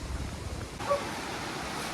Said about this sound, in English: So we've got the sea just down here, and this river literally just runs down into the sea.